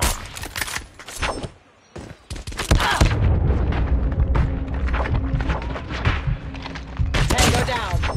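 Strafing run in a shooter video game, with heavy bomb blasts and rolling booms under crackling bursts of gunfire, a brief lull, then sustained loud rumbling and a fresh volley at the end; voices talk over parts of it.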